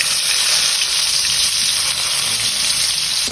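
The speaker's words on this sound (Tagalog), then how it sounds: "mainit na ang mantika, maggigisa tayo ng bawang" Garlic sautés in hot cooking oil, giving a steady, loud, close sizzle with no pause and no talk.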